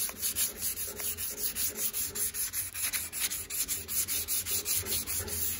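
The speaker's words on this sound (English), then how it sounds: "this block is hard and it goes right across those dents" A hard sanding block worked back and forth over a guide-coated car body panel makes a steady rhythmic scraping rub, close and continuous, with no voices.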